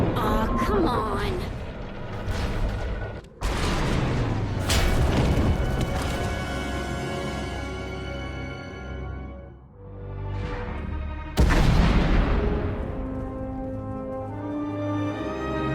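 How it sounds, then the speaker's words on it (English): Deep booming explosions and heavy rumbling crashes of a tunnel collapse roll through a noisy video game scene in Star Wars: The Old Republic, with a couple of big impacts standing out and sound continuing throughout. "We heard explosions. The tunnel collapsed."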